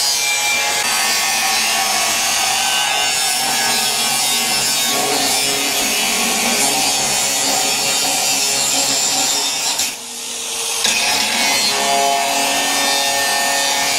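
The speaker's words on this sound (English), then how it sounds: "So he's using the angle grinder." An angle grinder works on a rolled steel floor joist at a construction site, giving a loud, steady abrasive whine and rasp that runs continuously with one brief dip, close up and with no speech.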